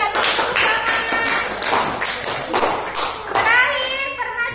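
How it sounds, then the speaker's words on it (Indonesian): Classroom of students clapping for a group that has just presented, with uneven bursts of hand claps and taps mixed with children's chatter and voices throughout. "Kita tepuk tangan."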